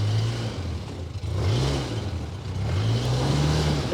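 A Polaris Ranger 800 AWD utility vehicle's engine revs in low range in two-wheel drive, rising and falling in steady surges that stay loud and close throughout.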